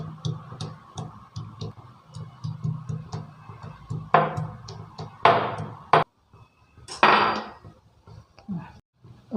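Garlic cloves for a fish soup are lightly crushed on a hard surface, giving a close run of rhythmic taps followed by a few louder sharp knocks and brief pauses.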